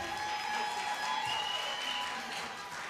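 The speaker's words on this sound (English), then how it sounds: "Come on, clap your hands, all you people." A church youth group congregation claps along at a lively worship service, the clapping fairly soft and steady, with tonal music or voices sustained underneath.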